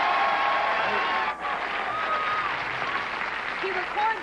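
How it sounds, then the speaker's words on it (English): A studio audience at a 1979 TV game show applauds in a steady roar that dips briefly near the middle and then resumes. Voices can be heard faintly under the clapping. "if you wish to applaud me again, go right ahead"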